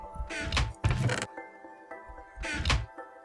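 Several quick wooden clunks and creaks of a Minecraft chest being opened and shut repeatedly, over a faint steady background hum.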